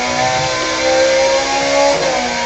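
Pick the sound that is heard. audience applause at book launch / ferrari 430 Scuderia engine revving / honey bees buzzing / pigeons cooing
ferrari 430 Scuderia engine revving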